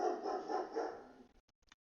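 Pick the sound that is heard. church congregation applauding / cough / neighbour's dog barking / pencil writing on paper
neighbour's dog barking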